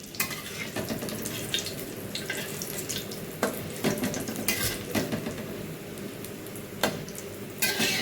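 Eggs frying in a pan for Bengali-style egg devil, with a steady sizzle running throughout and sharp bursts of clatter and stirring scrapes every few seconds, close and fairly loud.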